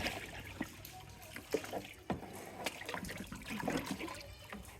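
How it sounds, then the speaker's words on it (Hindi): Water poured by hand into soil at a goat shelter in the rainy season gives a soft, faint, uneven trickle and splash with small irregular bursts over a few seconds, with no talk. "अब इसमें डालते हैं हम पानी पानी पास ही पड़ा हुआ ऐसे ही डाल देते हैं"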